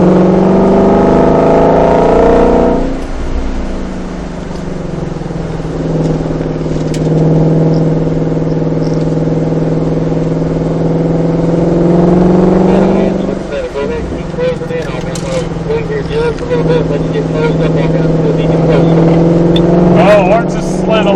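A 2020 Ford Mustang Shelby GT500 engine on a race track holds a loud, steady roar, dips briefly, then swells again as it climbs through the revs, with a person talking over it.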